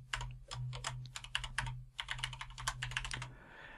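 Rapid keystrokes on a computer keyboard as an email address is typed, a close, steady run of crisp clicks in short bursts over a low hum, with no voices.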